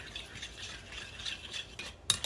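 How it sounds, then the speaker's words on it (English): Crab cake ingredients being mixed in a bowl, soft rubbing and stirring scrapes with a faint clink of a utensil toward the end, quiet and close. "so we're gonna mix this up"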